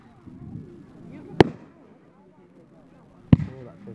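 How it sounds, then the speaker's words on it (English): Fireworks bursting at a display, two sharp loud booms about two seconds apart over faint crowd chatter nearby. "I'm really looking at the fireworks, not my phone"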